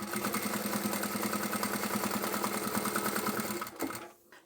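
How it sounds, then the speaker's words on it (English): A sewing machine stitches fabric along a fold while sewing a picnic placemat with bias binding, giving a fast, steady mechanical chatter that is close and continuous before it stops abruptly near the end. "then you can start sewing from that fold again"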